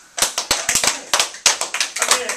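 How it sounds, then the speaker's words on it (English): A small class of students claps for themselves in a classroom, a handful of close, sharp, uneven claps that come in loose bursts rather than a steady roll. "Clap them for yourself."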